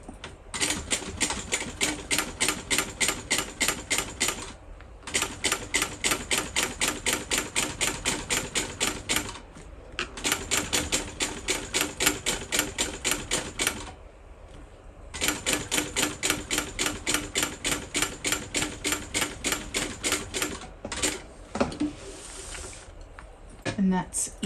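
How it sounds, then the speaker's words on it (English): A sewing machine top-stitches a second row along a fabric bag in several steady, rapid bursts separated by short pauses, loud and close, with no talking over it. "you're going to come back in and top stitch again another row, 3/8 of an inch from that top stitch line"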